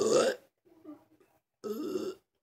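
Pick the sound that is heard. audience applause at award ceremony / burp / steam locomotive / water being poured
burp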